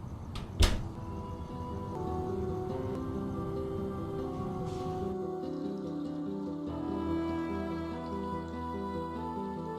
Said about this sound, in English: I opened the door and walked into the Caucasus Hotel.